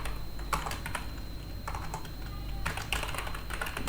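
Rapid keystrokes on a computer keyboard, typed in bursts with brief pauses, close and clear with no talking.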